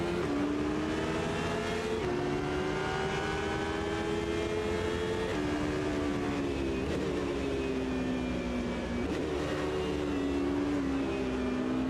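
Cockpit view of a 2005 endurance race car in Automobilista 2, with a steady loud engine drone whose pitch rises through gears and drops at each shift, several upshifts and a brief lift, with no talking.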